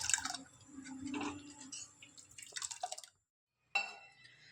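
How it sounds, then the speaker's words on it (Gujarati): About half a cup of water is poured into a pot of simmering ragda, a spiced white pea curry, making splashing, trickling liquid sounds that stop abruptly, followed by a silence and a brief final splash. "હું અડધો કપ જેટલું બીજું પાણી નાખું છું"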